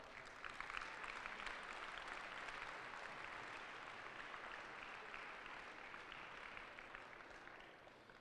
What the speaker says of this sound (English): Please give all those folks a round of applause.